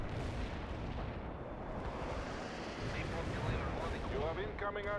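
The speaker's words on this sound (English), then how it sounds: "You have incoming artillery again." Artillery barrage in the real-time strategy game World in Conflict, a dense, sustained rumble of distant blasts and booms with a constant battle roar, and faint voice chatter near the end.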